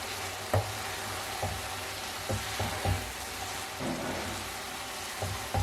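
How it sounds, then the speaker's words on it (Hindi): Whole masoor lentils fry in a pan with a soft, steady sizzle, broken by scattered light taps and clinks of stirring, quiet and close. "अब साबित मसूर को अच्छे से फ्राई कर लेंगे"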